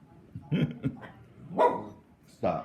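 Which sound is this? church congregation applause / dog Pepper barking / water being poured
dog Pepper barking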